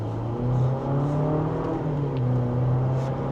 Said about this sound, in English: I'll do one more acceleration just in normal drive here